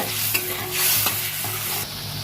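A masala of mustard paste, chili and turmeric sizzles loudly in a pan and is stirred, with steady frying hiss broken by scraping spoon strokes, close by. No one speaks.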